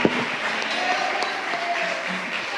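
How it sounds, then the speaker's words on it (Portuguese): Church congregation clapping during a worship service, a close, busy patter of hands running through the clip, with a voice speaking faintly beneath the applause. "Vamos aplaudir o Senhor com alegria."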